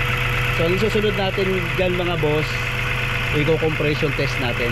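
A Mazda 3 engine after a top overhaul, with new spark plugs and coil, runs with a steady, strong vibrating hum beneath someone talking almost throughout.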